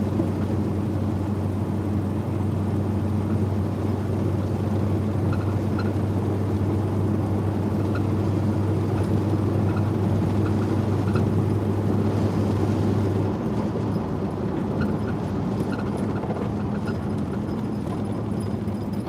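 Car on a test drive after a rebuild of its 700 transmission, a steady engine and road drone heard from inside the cabin, holding constant and loud with a low tone that drops away near the end.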